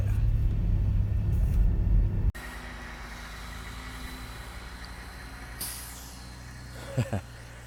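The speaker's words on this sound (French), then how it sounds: "j'ai un premier camion qui vient d'arriver, qui va s'installer" A heavy truck's engine rumbles as it arrives at a festival site, then cuts off abruptly, followed by a sharp hiss of air brakes and a couple of brief mechanical bursts.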